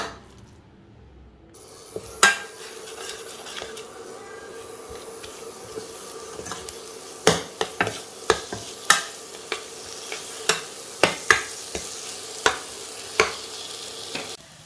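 Spice masala and potatoes sizzling in hot oil in a pan as a spoon stirs them, giving steady frying hiss punctuated by a series of sharp scraping and knocking strokes against the pan.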